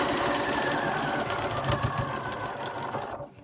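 A sewing machine runs steadily, stitching a quarter-inch seam down one side of a flying geese quilt block. The motor hum is loud and continuous, then cuts off near the end.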